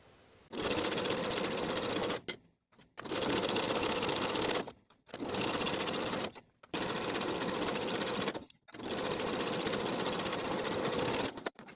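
Rapid whirring of a sewing machine running a 3/8 inch seam around a knit jumpsuit, heard close in five bursts of a second or two each with short pauses between.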